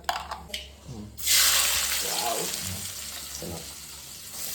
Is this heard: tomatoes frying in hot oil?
yes